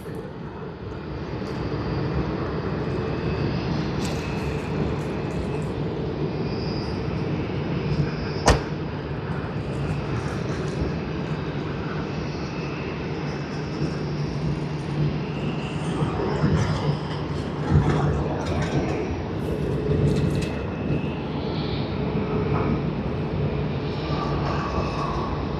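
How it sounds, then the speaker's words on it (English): Etihad Boeing 787-9 Dreamliner jet at Sydney Airport, a steady broad engine roar held at moderate loudness throughout, with a faint brief tick near the middle. "we have the Abu Dhabi service by Etihad on its 787-9 Dreamliner"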